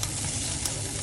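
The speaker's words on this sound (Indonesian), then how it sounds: "Ntar kita tumis ini ya. Tumis pakai sampai harum." Ingredients stir-frying in a pan as a brief, close, steady sizzle and hiss with faint stirring.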